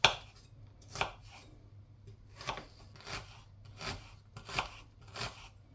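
A knife chopping an onion on a board for a creamy broccoli and Stilton soup, six or seven separate crisp cuts spaced unevenly, close and fairly quiet with near silence between them.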